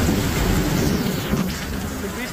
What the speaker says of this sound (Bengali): বৃষ্টি পড়তে পড়তে জায়গা মতো পৌঁছে গেছি